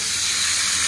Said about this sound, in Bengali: এখন দিয়ে দিই কচুর শাক